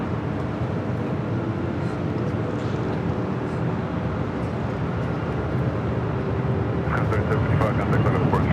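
An airliner takes off at LAX with a steady, loud, broad jet roar that holds throughout, with a brief crackle of added noise near the end, heard from outdoors nearby.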